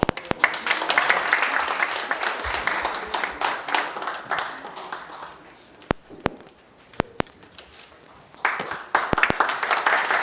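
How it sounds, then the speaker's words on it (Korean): An audience at a debate forum breaks into dense, sustained clapping that fades into scattered claps and thumps, then swells again near the end. "다시 한번 박수 부탁드리겠습니다"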